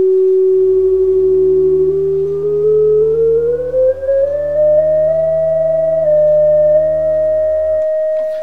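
A steady Memorymoog analog synthesizer filter tone sounds alone with the oscillators off, a pure humming pitch that slowly glides upward and then holds, with a low drone underneath.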